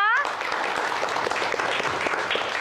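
Loud, continuous applause and clapping from a studio audience at a Marathi TV game show, celebrating the winner of a musical chairs contest, with some voices mixed into the steady, dense crowd sound.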